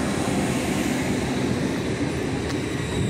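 An LNER express train, unit 801223, pulls away from York station bound for London King's Cross, giving a steady broadband rumble and roar that stays loud and close throughout, with no talking.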